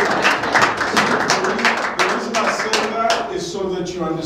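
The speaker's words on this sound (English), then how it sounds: "That calls for a round of applause." Steady round of applause from a seminar audience at a business masterclass, dense continuous clapping that holds throughout at moderate loudness.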